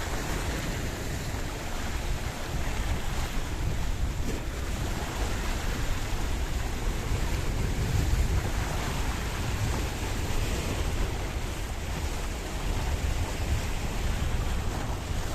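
Choppy waves of the Mediterranean Sea wash steadily along the promenade at Paphos, Cyprus, a constant broadband surf roar mixed with wind buffeting the microphone, with no voices.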